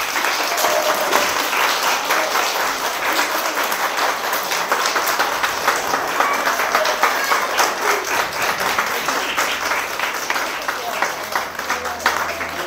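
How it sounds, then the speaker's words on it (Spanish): Schoolchildren at Escuela la Colina in Quetzaltenango clap together in sustained applause, a steady crackling patter of many small hands with some voices faintly underneath, holding for over twelve seconds. "Un aplauso, chicos."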